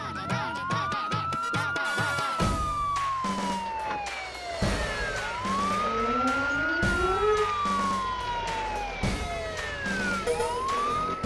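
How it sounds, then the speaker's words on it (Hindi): Police jeep siren wailing in rising and falling sweeps, loud and close, with a second siren tone overlapping and some background bustle. "मतलब ये सायरन की आवाज कहाँ से आई?"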